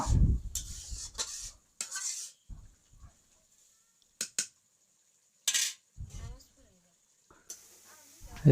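Small fish mixed with leafy greens being stirred in a pan, with intermittent scraping and clinking of a utensil against the pan in short separate bursts, close and fairly quiet with pauses between strokes.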